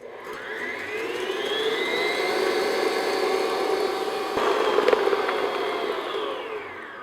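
Stand mixer whipping tres leches cake batter, a steady, loud whirring hum with a rising and falling tone that holds throughout, plus a brief clatter near the middle.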